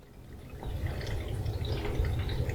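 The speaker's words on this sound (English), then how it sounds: "there's still water backflowing through this pipe" Water backflowing through a pipe aboard a boat, a steady low gurgling trickle that swells after the first half second and keeps running close by with faint dripping on top.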